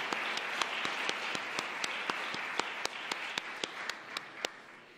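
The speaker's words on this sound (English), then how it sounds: "let's just go ahead and give them a round of applause" Applause from a modest audience at a university jazz combo concert, a soft bed of scattered clapping with one nearby clapper striking sharp, steady, evenly spaced claps throughout.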